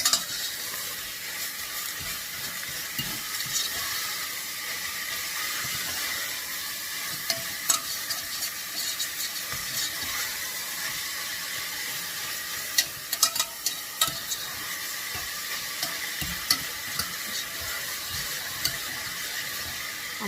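Minced meat fries with softened onion in a pan, giving off a loud, continuous sizzle, with scraping and clacking from stirring scattered throughout.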